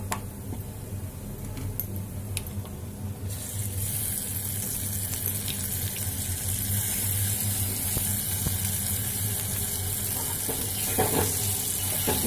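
Chopped tomato frying with browned onions in a pan for a Punjabi rajma curry, a continuous close sizzle that grows louder and brighter after a few seconds, with faint ticks of a spoon and no talking.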